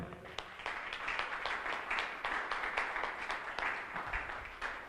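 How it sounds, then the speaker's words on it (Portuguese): Congregation in a church applauding, a steady wash of many hands clapping throughout, moderately distant and even in level. "Eu sempre falo para aplaudir mais uma vez"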